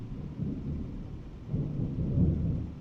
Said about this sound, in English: Also here in Belgium it's raining and lightning and stuff like that, so maybe you will hear some sounds from it through my mic